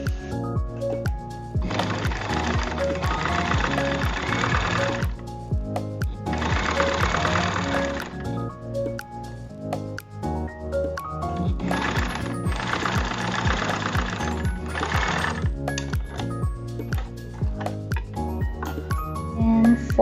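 A sewing machine top-stitches a fabric channel on an underbust corset, its needle running in rapid, steady mechanical bursts of a few seconds each, separated by pauses, under continuous background music.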